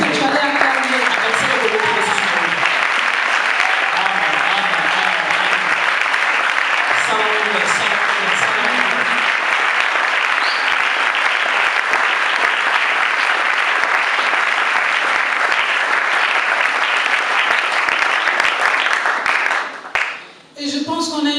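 A large audience at a church youth event gives a long, loud burst of applause mixed with cheering, steady for about twenty seconds before it briefly fades, with voices shouting through it.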